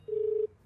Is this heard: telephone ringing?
yes